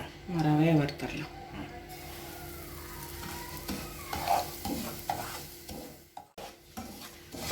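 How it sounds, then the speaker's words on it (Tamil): Semolina roasts in ghee in a pan for pineapple kesari, with a soft, steady sizzle under repeated scraping and clinking of a spoon stirring against metal. "இதே நெய்யிலே ரவையை வறுத்தரலாம்."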